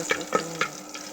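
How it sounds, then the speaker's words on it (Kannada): Ginger garlic paste frying in hot oil after mustard seeds, a steady close sizzle with three or four light taps or pops of a spoon in the pan. "ಈಗ ಶುಂಠಿ ಬೆಳ್ಳುಳ್ಳಿ ಪೇಸ್ಟ್ ಹಾಕ್ತೀನಿ."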